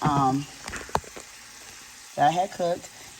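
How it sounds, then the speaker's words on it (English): Previously cooked vegetables are tipped into a pan with drained ground beef for baked spaghetti, giving a brief sizzle and stirring clatter between stretches of someone talking. "So we are going to add our veggies that I had cooked."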